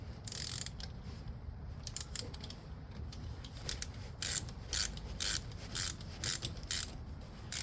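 Ratchet wrench tightening rusty brake caliper slider pin bolts on a Toyota RAV4, a rapid run of close, bright clicking bursts repeating in short strokes with brief pauses between them, no talking.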